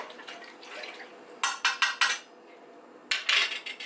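Shrimp and broccoli being stirred in a cooking pot, giving a few close scraping, clinking utensil strokes in two short bursts with quiet pauses between, no talking.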